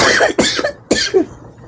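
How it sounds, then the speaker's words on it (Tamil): A woman gives three harsh coughs in quick succession, close and loud, with short gasps between them. "எனக்கு இருமல் தான் வருது"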